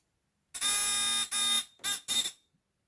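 A wire break alarm clipped onto the output side of a faulty SSR heating line sounds four loud electronic buzzes, the first long and the last three shorter, in a quiet room.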